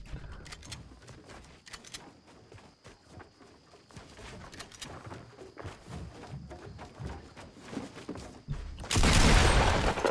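Sniper rifle shots in an online shooter game, sharp scattered cracks and thuds in quick succession amid game noise, ending in a loud burst of crackle, fairly faint overall.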